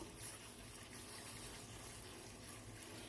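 Milk pours in a steady, quiet stream into a bowl of instant oatmeal, a soft continuous splashing rush heard close up and alone.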